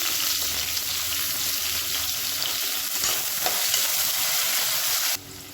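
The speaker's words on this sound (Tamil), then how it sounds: "இப்போ இதில் நீளமாக நறுக்குனா வெங்காயம் சேர்த்துக்கலாம்." Long-sliced onions, with a little mint and spices, sizzle steadily in hot oil in a pan for hotel-style kurma, with occasional stirring, loud and close throughout.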